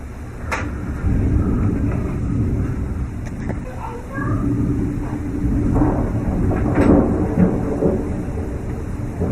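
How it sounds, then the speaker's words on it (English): Heavy rain pours in a steady, dense roar with gusting wind during a lightning storm, and low rumbles roll underneath throughout. "Like all of a sudden it's really raining a lot."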